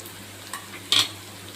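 Ginger garlic paste frying with browned onions, a quiet steady sizzle marked by a couple of brief scraping stirs and one louder clink.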